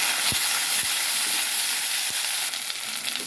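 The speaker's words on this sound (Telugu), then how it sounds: "ఇప్పుడు కడిగి పెట్టుకున్న మటన్ వేసేసుకున్నాం ఫ్రెండ్స్" Washed mutton drops into hot oil with ginger garlic paste and turmeric, giving a loud, dense, even sizzle throughout, with a few soft knocks against the pan.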